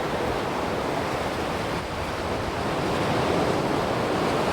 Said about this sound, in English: Yellow sand with the water running back into the beach, into the ocean